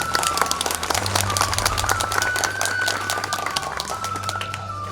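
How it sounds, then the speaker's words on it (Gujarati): Sustained applause from an audience at a welcome ceremony during a temple consecration festival, dense clapping carrying on steadily throughout with a faint crowd murmur beneath. "જોરદાર તાળીઓ"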